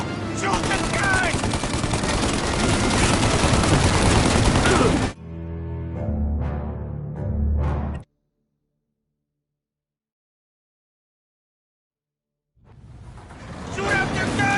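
Tommy gun fire in a Mafia Definitive Edition shootout roars as a dense, loud burst of rapid shots for several seconds, then drops to a quieter stretch, cuts to silence, and returns as another heavy burst.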